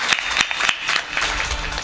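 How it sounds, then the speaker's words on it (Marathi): Audience clapping together at a kirtan gathering, a dense, steady applause with a few sharper claps, loud and close throughout. "मंडळीसाठी जोरदार टाळी होऊ द्या."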